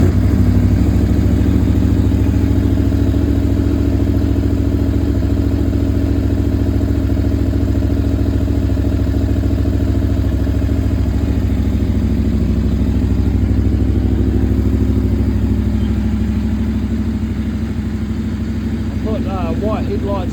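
An Aprilia V4 1100 Factory motorcycle, cold after three weeks unused, runs at a steady loud idle close by, its engine rumble holding even throughout, with faint clatter near the end.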